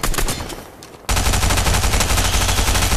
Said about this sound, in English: Just shoot the gun.